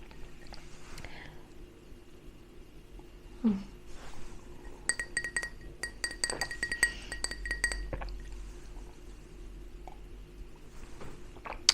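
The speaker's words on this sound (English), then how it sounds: "And I've also just got a glass of lemonade." A glass of lemonade clinks in an ASMR setting: a sharp isolated tap, then a cluster of bright glassy clinks and faint liquid sounds, close and quiet against a soft background.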